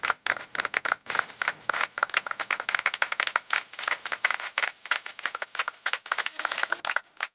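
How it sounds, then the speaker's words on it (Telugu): A studio audience claps at a Telugu television wedding game show, a burst of dense, close hand clapping running steadily for several seconds before thinning out. "చప్పట్లు."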